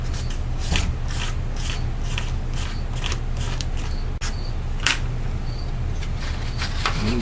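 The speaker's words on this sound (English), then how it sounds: "again we go through that same process of scraping off the extra glue" Dried excess glue being scraped off model rocket parts, a steady close rasping scrape repeated in short strokes with no talk.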